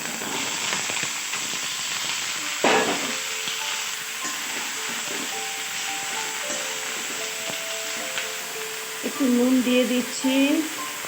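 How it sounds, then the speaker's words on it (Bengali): Eggplant and potato pieces land in a pan of hot oil with browned onion and panch phoron, giving a sustained sizzle with scraping stirs and clinks, and a brief tonal squeak near the end. "দিয়ে বেগুন আর আলুটা দিয়ে দিচ্ছি"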